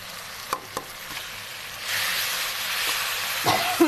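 Masoor dal dropped into a hot pan breaks into a bright hissing sizzle after a couple of light utensil taps, continuing steadily with a few more clinks near the end.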